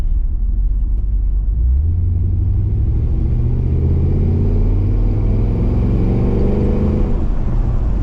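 A 1987 Chevrolet C10 square body with an LS 6.0L engine driving, giving a loud, close cabin rumble that rises in pitch as it accelerates through the gears, then eases off.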